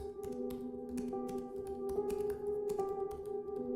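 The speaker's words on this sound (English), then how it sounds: "What is that typing noise that they put in?" Typing sound effect added to a Wartime Stories video: rapid, irregular key clicks layered over a steady humming tone with shifting pitches, moderately loud and without talk.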